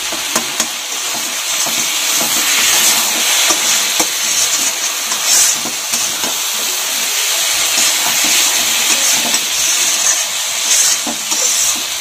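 Egg and eggplant cook in a pan with a steady, loud sizzle and hiss that holds for the whole stretch, while occasional faint stirring clicks come from a utensil and no one speaks.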